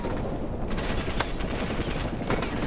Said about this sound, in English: technically, this is a light machine gun